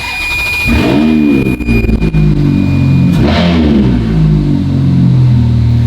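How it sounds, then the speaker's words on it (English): Ferrari 430 V8 engine with catalytic converters starting and then revving loudly up close, two strong rising revs that fall back to a throaty idle in between. "Let's start this bad boy up. Put some heat into the engine."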